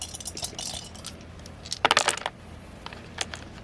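Plastic Marine-themed gaming dice for a Blood Red Skies tabletop game clatter onto a surface in a quick cluster of sharp clicks and rattles, close and fairly loud, with fainter ticks before and after.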